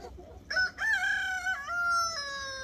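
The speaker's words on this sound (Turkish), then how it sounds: "Ve köy tavuklarımız da mevcut arkadaşlar." A rooster among village chickens crows loudly and close by in a single long call, with no talk.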